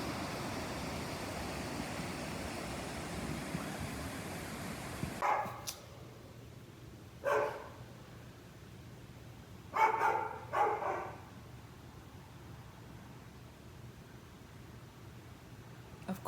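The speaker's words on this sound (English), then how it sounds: "Of course that dog want to bark all over." A dog barks outdoors at a distance in a Mexican town, a handful of short barks spread out over steady background noise, some coming in quick pairs.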